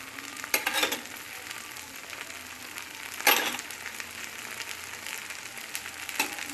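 Wheat dosa batter frying in oil on a hot pan, a steady soft sizzle throughout with a few brief louder crackling bursts, close and moderately quiet, no talking.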